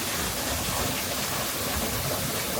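Steady broadband rush of a waterfall at Animal Kingdom, a continuous dense wash of falling water filling the scene without pause.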